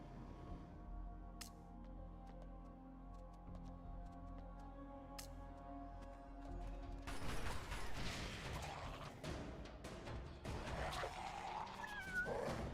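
A cat meows in the Fallout video game, heard amid clanking mechanical creaks and game ambience, with the sounds growing busier and louder in the second half.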